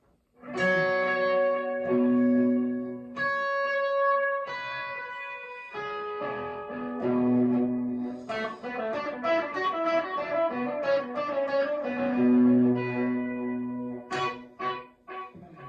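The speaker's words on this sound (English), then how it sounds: "this is kind of my more longer delay sound" An electric guitar played through a Volante pedal set for a long, modulated ambient delay rings out in sustained chords and picked notes, with repeating, wavering echoes trailing each phrase.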